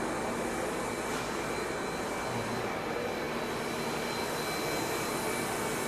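Plastic extrusion machine running with a steady, dense broadband roar and whine, continuous and unchanging throughout, close and moderately loud with no voices.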